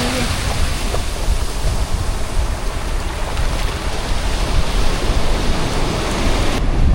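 Sea waves at a beach in Vietnam, a loud, steady broadband rush of surf and wind noise filling the whole clip without breaks.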